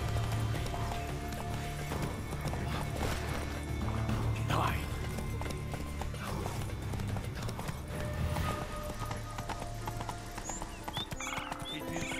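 Rhythmic hoofbeats of a galloping horse in The Witcher 3: Wild Hunt, steady clip-clop with a whinny, mixed with game effects and a voice talking in Russian over it.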